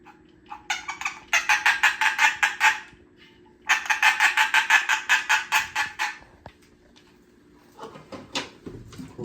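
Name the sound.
chicken imitation sound effect from antique drum set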